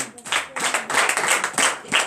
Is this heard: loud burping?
no